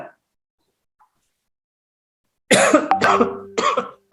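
After a near-silent stretch, a person coughs hard a few times in close succession, loud and near.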